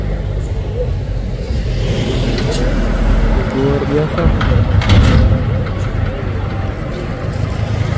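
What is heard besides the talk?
Fuso trailer trucks climbing a hill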